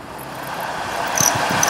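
A Saab 9-3 HVAC blower fan motor, faulty and recently sprayed with WD-40, running with a steady whirring hum and a thin high squeal, close and continuous for under two seconds.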